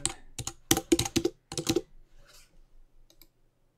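Typing on a computer keyboard while writing in a word processor: quick bursts of close, crisp key clicks, then a pause and a few scattered final taps.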